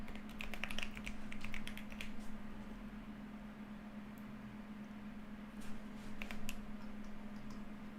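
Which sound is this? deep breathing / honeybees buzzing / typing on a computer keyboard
typing on a computer keyboard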